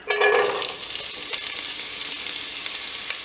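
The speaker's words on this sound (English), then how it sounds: "You know the pan is at the right heat when things start to sizzle" Oil crackles and sizzles loudly as diced onions hit a hot pan, a sharp burst of frying that settles into a steady hiss.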